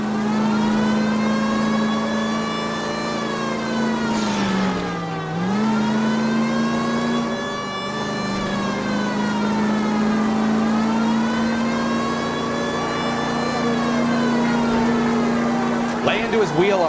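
In the L.A. Noire video game, a car engine revs loudly and continuously through a chase, its pitch dipping and climbing with gear changes and throttle.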